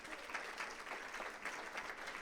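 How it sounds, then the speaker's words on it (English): Audience applause at a regional State of the Region event, a steady wash of hand claps that holds for a couple of seconds at moderate level with no talk over it. "Give them a big round of applause."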